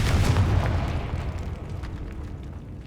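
A Confringo blasting spell explodes in a Hogwarts Legacy catacomb, a single loud, deep boom with a rumbling tail that fades over a few seconds.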